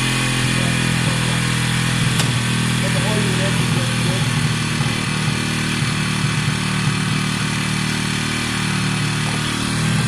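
A WK RT 125 motorcycle idles steadily with its choke on, a smooth, fairly quiet, even engine note running unbroken throughout, with a voice talking over it.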